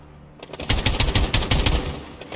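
Machine gun fire in Call of Duty: Modern Warfare (2019): after a brief quiet start, a loud, close burst of rapid automatic shots runs steadily for nearly two seconds, then tails off.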